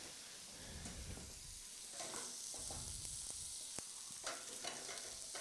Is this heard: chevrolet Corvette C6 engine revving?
no